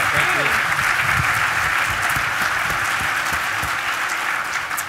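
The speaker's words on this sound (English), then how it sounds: "Yes, round of applause." Loud, sustained applause from a conference audience after a research panel discussion at a society leadership conference, a dense even wash of clapping with some murmuring and voices underneath.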